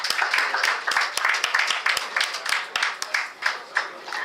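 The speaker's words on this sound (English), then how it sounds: "Let's give a huge round of applause for this iconic feat." A room of attendees at a stock exchange listing ceremony claps, with distinct individual hand claps sounding in an uneven, pulsing rhythm, fairly close and lively throughout.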